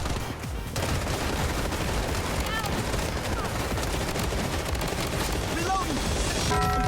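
Dense automatic gunfire in the shooter game Blood Strike, rapid close bursts layered into a continuous rattling barrage with occasional sharper shots, under brief voice lines.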